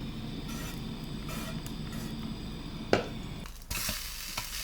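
Spam slices frying in the lid of a Rothco mess tin used as a pan, a close, even sizzle with a sharp knock near the middle and a brighter, hissier burst of frying afterward.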